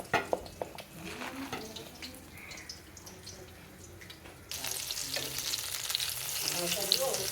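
Banana flower fritters (mochar bora) frying in a pan, giving a steady close sizzle with scattered crackles and pops that grows louder and denser partway through.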